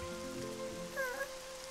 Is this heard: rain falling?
yes